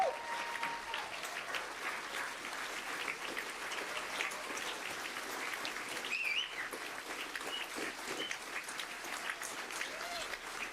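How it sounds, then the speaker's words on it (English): Sustained applause from a crowd, many hands clapping steadily for several seconds in a large room. "give him a hand-clapping praise for all that"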